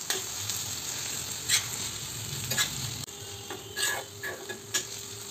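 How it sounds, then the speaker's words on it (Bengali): Pieces of fried fish go back into a hot pan with turmeric, sizzling softly up close while a utensil scrapes and clicks against the pan in scattered strokes. "এখন আমি ভাজা মাছটা তুলে দিচ্ছি।"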